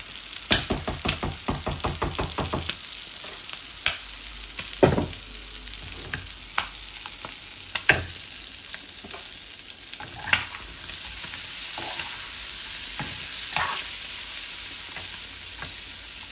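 Chicken eggs and potatoes fry in a pan, with rapid spatula clacks and scrapes at first, then sporadic stirring knocks over a steady close sizzle that grows a little stronger.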